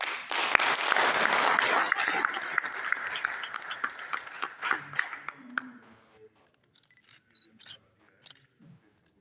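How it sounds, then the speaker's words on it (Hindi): At a police line award event in Islamabad, an audience applauds officers with brisk, dense clapping that thins over about six seconds into scattered claps, rustles and a camera click or two. "तालियां बनती हैं।"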